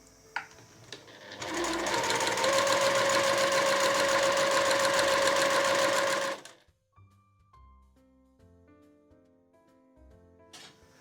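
A sewing machine stitches a sleeveless dolman blouse of floral Liberty-style fabric, running loudly and steadily for about five seconds after a brief start, then stopping, followed by quieter faint handling noises.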